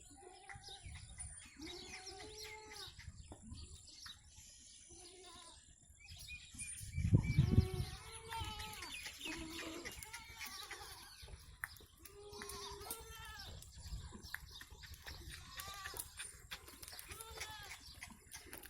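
Goats on a village farm in Pakistan bleating in short calls at intervals, with a louder close thump or rustle midway, birds and other livestock faintly around and occasional voices in the background.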